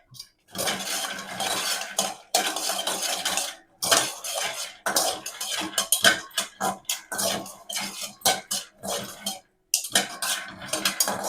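Dry lentils being stirred and roasted in a pan, a busy run of scraping, rattling clatter as the spoon and grains knock against the metal, broken by brief pauses, close and fairly loud with no talking.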